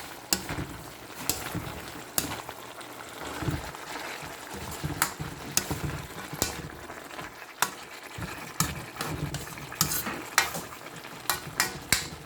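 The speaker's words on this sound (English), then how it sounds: "So once again, simply try to stir it." Sautéed mixed vegetables with string beans (sitaw) sizzle steadily in a pan while a utensil stirs them, scraping and clinking against the metal in irregular bursts, close and without talk.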